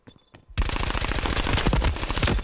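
MP5 submachine gun fire in Black Ops Cold War: after a faint quiet start, a sustained rapid automatic burst rattles on loud and close until the end.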